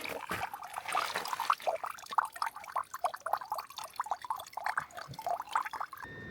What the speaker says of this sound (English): here's the plastic water bottle that we're filling, and it seems to be draining out pretty quickly